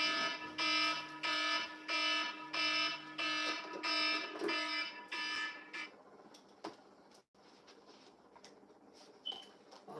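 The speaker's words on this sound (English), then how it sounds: "that was my alarm system going off" A home alarm system sounds in repeated loud, shrill electronic pulses for about six seconds, then stops, leaving quiet room noise and a few faint clicks.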